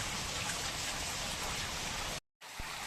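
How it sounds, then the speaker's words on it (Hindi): Heavy rain pours steadily in a hill village, a dense continuous hiss of drops on surfaces at low volume that cuts out briefly near the end. "आज बारिश बिल्कुल भी बंद होने का नाम ही नहीं ले रही"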